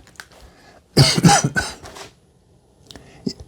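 Several rough coughs from someone reacting to fumes while spray-cleaning a Ninja WoodFire outdoor grill with Easy-Off oven cleaner and Goo Gone, a close loud burst lasting about a second, then quiet with a faint later cough.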